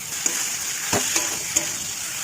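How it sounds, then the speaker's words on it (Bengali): Fried pointed gourd and potato pieces hiss in hot masala in a pan, a steady close sizzle broken by a few brief clinks and stirring taps. "ভেজে রাখা পটল আলু দিয়ে দেবো।"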